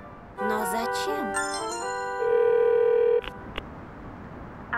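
A cartoon telephone plays a ringback tone, with warbling electronic tones and then a sustained steady beep that cuts off abruptly, followed by faint clicks and quiet room sound.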